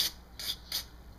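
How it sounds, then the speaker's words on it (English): Three short hissing bursts of aerosol cleaner sprayed onto a car's mass airflow sensor, evenly spaced, close and fairly quiet, with no talking. "liberal use of the spray"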